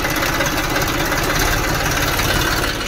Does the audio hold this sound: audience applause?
no